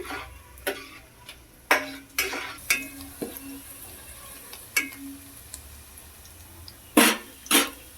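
Cumin seeds and onion pieces frying in a pan for a brinjal and potato masala gravy curry, heard as a steady near sizzle with repeated sharp scrapes and clacks of a stirring spoon against the pan.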